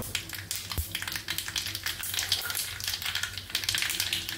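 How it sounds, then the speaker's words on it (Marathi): Cumin seeds sizzle in hot oil being heated for tempering potatoes for kat vada, giving a continuous crackling fry with scattered sharp pops and a few taps, close and fairly quiet. "मी आधी तेल गरम केलेलं आहे, त्याच्यामध्ये जिरं घातलेलं आहे"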